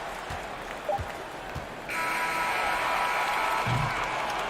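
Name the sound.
crowd applauding at a basketball game in Memphis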